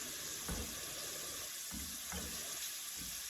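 Salted onions fry in a pan for bacalhau with cream, a steady close sizzle with a few soft stirring scrapes and bumps under it.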